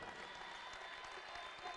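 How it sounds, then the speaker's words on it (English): Steady applause from a distant crowd of JMU fans at a college basketball game, a continuous wash of clapping with no clear breaks. "a nice round of applause from the JMU fans behind their bench"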